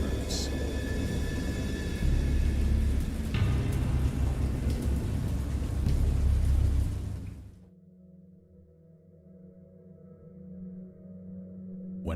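Heavy rain with rumbling thunder, a dense steady roar that cuts off abruptly partway through, leaving a quieter low tonal hum.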